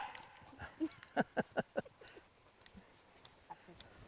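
A gun dog at a field trial barks in a quick run of about five sharp yelps, with quieter voices talking faintly before and after.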